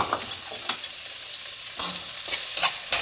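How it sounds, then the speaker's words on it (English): Chopped onion frying in oil in a pan, a steady close sizzle broken by a few sharp scraping stirs, moderately loud with no talking. "Get some chopped onion. Dump them in there and fry it."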